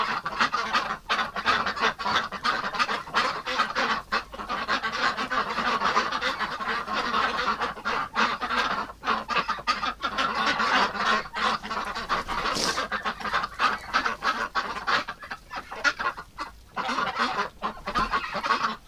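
A large flock of ducks in their winter pen quacks and honks in a dense, loud, continuous chorus of overlapping calls with no pause.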